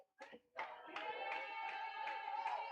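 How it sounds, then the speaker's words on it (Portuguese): Galo supporters at a youth under-11/under-12 football match between Guarani and Independente de Limeira clapping in a steady rhythmic beat, with chanting voices over the claps. "E a torcida do Galo se anima."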